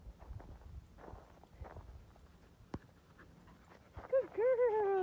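A dog pants and walks close by, with soft footfalls and breathing for several seconds, followed by a rising whimpery whine at the end and faint people nearby.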